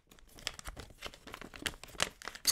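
Packaging for a HyperX cozy cat keycap being opened by hand, with close, busy crinkling and tearing of plastic and paper in quick bursts throughout, no voices.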